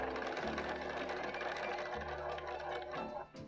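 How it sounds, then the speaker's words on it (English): A sewing machine runs steadily at close range, stitching across a bound buttonhole on fabric, with a continuous whirring motor hum and rapid needle rhythm, pausing briefly as it reverses to back tack. "place the piece under the machine So the needle will go right across that little triangle. And back tack."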